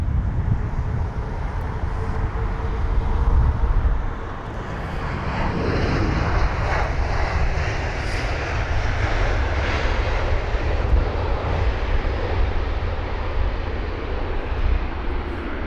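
Jet engines of an Air Serbia Airbus A319 at London Heathrow give a strong, steady roar with a whining tone, dipping briefly before building again as the aircraft passes close by, with no voices over it.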